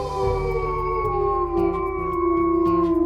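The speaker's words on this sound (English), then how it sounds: "we gotta howl" A wolf howls in the game WolfQuest, a long sustained tonal cry that glides slowly over a rhythmic low game music bed, loud and without talk.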